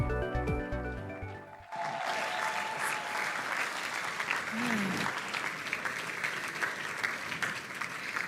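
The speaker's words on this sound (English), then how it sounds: "With a warm round of applause, welcome Bunmi George." An audience at an influencer talk event breaks into applause to welcome a speaker, a dense, sustained roar of clapping that starts after music cuts off and carries on steadily, with a brief voice heard partway through.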